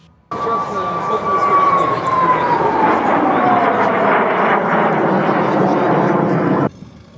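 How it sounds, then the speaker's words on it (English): L-29 jet planes roar overhead during an Aviation Day air show in Kharkiv, a loud sustained engine rush with a falling whine as they pass, continuous for several seconds. "The first to start the fest are L-29 planes."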